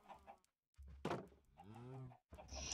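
Blocky chickens in Minecraft clucking in short bursts between pauses, fairly close and clear, with a few game sound effects around them and no talking.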